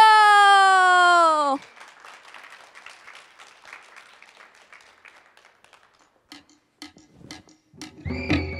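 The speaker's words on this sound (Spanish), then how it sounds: "¡Fuerte el aplauso!" Audience applause breaks out at a televised variety show after dancers are introduced, a dense wash of clapping that follows a sustained tone, then fades out as a voice speaks.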